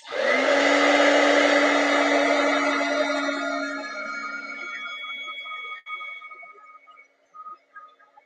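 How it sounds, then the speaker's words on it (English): A hair dryer blows loudly to dry a craft project, a steady broadband whoosh with a low hum that eases off in strength and then sputters and cuts out near the end. "I'm just going to dry this off really"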